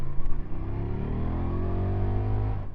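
A KTM Superduke 1290 RR motorcycle engine revs briefly, then settles into a steady, moderately loud idle-like drone with rising harmonic tones, heard up close and alone.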